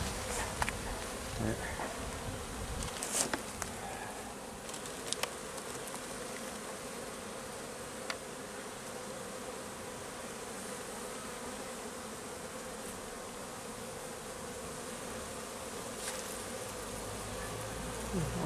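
Dense swarm of honeybees buzzing at an open hive during a transfer from nucleus boxes into full hives, a steady close drone throughout with occasional handling knocks and a brief voice.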